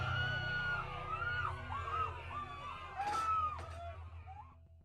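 Screaming in a horror game scene, with several high, wavering yells sliding up and down in pitch over a low steady drone, and a couple of sharp bursts near the end.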